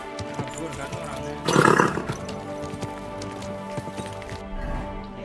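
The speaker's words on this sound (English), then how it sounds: "Easy, good horse." Horse hooves clopping with a neigh from a horse in the medieval video game Kingdom Come: Deliverance 2, a loud burst of hoofbeats and whinny mid-clip amid game ambience and voices.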